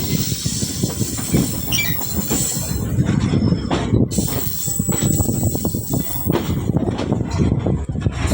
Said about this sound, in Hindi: कोचेस डी अटैच करके शंटर लोकोमोटिव वापस प्लेटफॉर्म नंबर 1 की लाइन पे आ जाएगा